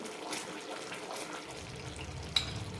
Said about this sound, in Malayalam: പാനിൽ നിന്ന് വിട്ടു വരുന്ന ഒരു പരുവം വരെ വഴറ്റിയെടുക്കാം